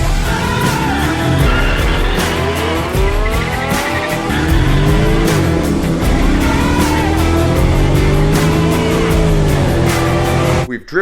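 A Genesis 5.0 R-Spec launches hard down a drag strip, its V8 engine note climbing through steady loud gear pulls with some tire squeal, continuous and close for about ten seconds.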